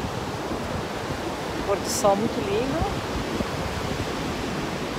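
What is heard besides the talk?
rough sea waves and wind at Anjuna Beach, Goa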